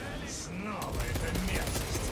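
Heavy machine gun fire in Warhammer 40,000: Space Marine 2, a dense continuous burst of rapid shots close up, with a voice talking over the roar.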